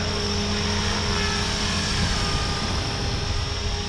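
A Blade 500 RC helicopter runs with its rotor spinning hard under throttle, a loud, steady, close whine with a persistent high tone and no talking.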